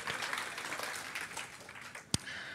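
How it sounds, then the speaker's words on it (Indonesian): Congregation clapping during a church service in Tokyo. The applause is soft and steady and fairly distant, with one sharp knock near the end. "Kita beri tepuk tangan dulu untuk diri kita sendiri ya"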